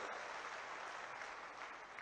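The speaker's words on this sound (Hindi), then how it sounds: "इसलिए एक बार इन कार्यकर्ताओं के लिए सब आपस में ताली बजा दो" Steady applause from a large crowd packed into and around a tent at a political rally, continuous broadband clapping, distant and fairly faint, with no talk over it.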